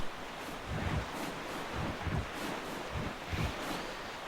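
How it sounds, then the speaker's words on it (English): Wind and ocean surf while sailing across open sea in the video game The Legend of Zelda: The Wind Waker, a steady rushing wash with soft swells of waves rising every second or so, fairly quiet. "when you sail out here, luckily the wind's in the right direction already"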